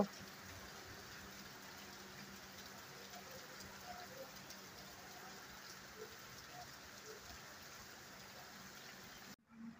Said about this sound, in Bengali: প্রচন্ড প্রচন্ড বৃষ্টি, প্রচন্ড প্রচন্ড বৃষ্টি হচ্ছে,